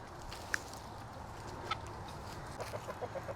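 Chickens clucking in a backyard flock, soft scattered clucks over a quiet hiss of background noise, with a short run of quick clucks near the end, faint and somewhat distant.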